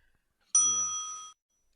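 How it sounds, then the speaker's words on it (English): One bright metallic bell ding rings out alone in a quiet room, struck once with a clear ringing tone that fades after under a second, with a faint voice murmuring beneath the strike. "I wish I had a sound effect. Ding. I need a bell."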